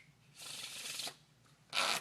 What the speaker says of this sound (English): let's say they give it a perfect Pharaoh shuffle